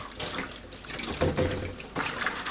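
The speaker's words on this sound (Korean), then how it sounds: "그동안 쪽파를 씻어주세요." Green onions being washed under a running kitchen tap, a steady rush of water splashing into a sink with shifting gurgles as the stalks move through the stream, close and fairly loud.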